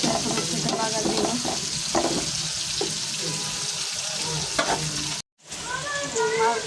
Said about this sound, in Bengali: মাছ বাগাচ্ছে, এখানে শাকও বাগার দিয়ে মাছ ভুনাটা বাসা করছি।